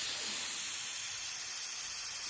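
Airbrush spraying paint at low pressure over a stencil, a steady, close, airy hiss that holds even and continuous throughout with no talk.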